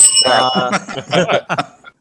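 A bell rung during a casual arcade hangout among friends, a bright ringing tone under a burst of chatter and laughter, with voices continuing around it.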